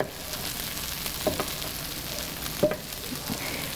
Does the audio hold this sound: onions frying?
yes